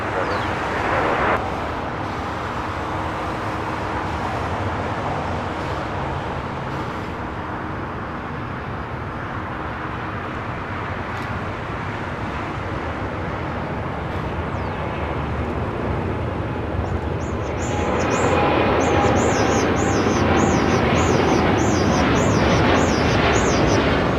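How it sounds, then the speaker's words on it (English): A United Boeing 787-9 Dreamliner rolls down runway 25 right at LAX, a steady distant jet roar with traffic-like rumble that swells louder near the end, where a faint high chirping sound joins in. "We do have a United Dreamliner now rolling down 25 right."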